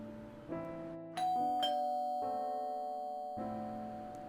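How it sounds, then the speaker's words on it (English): A two-tone ding-dong doorbell chime rings out clearly, with several sustained tones overlapping and ringing on in a quiet indoor space, in a creepy story setting. "The doorbell rang out"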